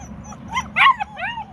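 Puppies in a kennel give a quick burst of high yips and whimpers, with a few sharp cries rising and falling close by over a low background hum.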